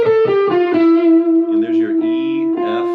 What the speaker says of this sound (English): So E Locrian is going to look and sound like this.